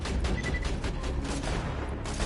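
Sustained automatic turret fire in the Borderlands 2 video game, a dense rapid rattle of gunshots and booms that stays loud and constant throughout.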